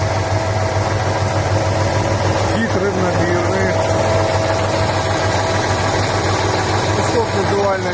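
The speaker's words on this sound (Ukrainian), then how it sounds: "Як бачимо, подйом кузова впевнений, працює плавно, без ривків." A truck engine idles steadily while the hydraulic tipper body lifts, a constant low rumble with a faint rising mechanical whine, loud and close.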